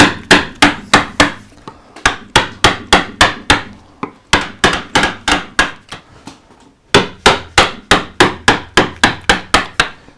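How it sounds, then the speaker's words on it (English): A flattish gouge driven by a mallet into a carved wooden coastal relief gives loud, evenly spaced woody knocks in quick runs of about eight blows, with two short pauses between the runs. "So I'll take a flattish gouge, and I'm going to start rounding this off here."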